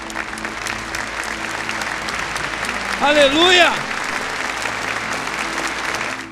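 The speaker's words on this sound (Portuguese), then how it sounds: "Vamos aplaudir Jesus" A church audience at a podcast recording claps in a loud, sustained burst of applause while a voice calls out a single exclamation partway through.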